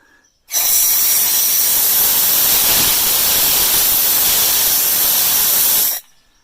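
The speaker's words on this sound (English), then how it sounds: "this is the the vapor bleeder valve if we need to get more vapor out in a hurry" A propane vapor bleeder valve on a tractor's propane tank bursts open into a loud, steady, broadband hiss that holds for about five and a half seconds, then cuts off abruptly.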